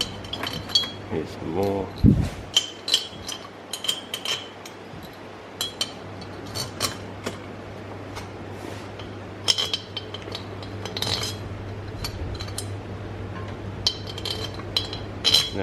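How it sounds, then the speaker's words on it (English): Metal head bolts for a zero-turn mower engine rebuild clink and jingle as they are dropped into place, a scatter of small bright taps over a steady hum, with brief speech. "throw all the head bolts in"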